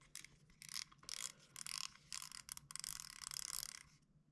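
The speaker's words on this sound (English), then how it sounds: "all you do is you take off the spool," Spool being taken off a beach caster spinning reel: a run of dry mechanical clicks, ratcheting and gear-like rasps in short bursts, close up with no talk.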